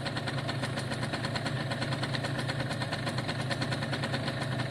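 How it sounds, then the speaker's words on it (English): Italjet Formula 50cc scooter engine idling in a steady, close, even buzzing drone that holds at a constant level throughout, with no talking. "let's make sure it idles now for a good 10 minutes"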